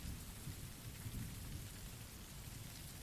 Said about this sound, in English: I'm gonna get rid of the rain sounds